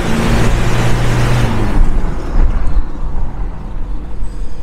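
A turbocharged Toyota Innova engine roars loudly under hard acceleration at high boost, starting with a strong droning tone and then easing into a rougher, fading rush. No one speaks.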